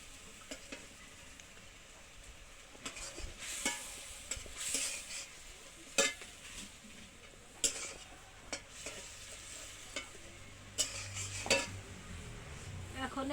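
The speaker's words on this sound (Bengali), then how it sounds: "মাছটাকে একটু ভুনা করে নিলাম" Hilsa fish fries in a pan, with a soft sizzle running under repeated sharp clinks and scrapes of a utensil stirring against the metal, nearby and moderately quiet, with no talking.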